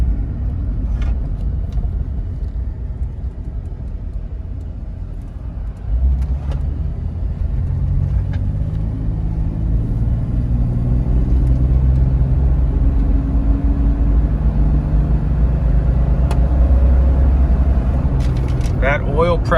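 A 2001 Jeep Cherokee XJ Limited with a 4.0 engine drives along with a steady low rumble from inside the cabin. Its engine pitch climbs and swells louder after a few seconds as it speeds up, with a voice talking over it.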